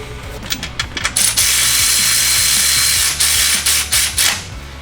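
A ratchet tightening the oil drain plug on an EcoBoost Mustang, with a few quick clicks followed by long, loud, continuous ratcheting, close by and without talk.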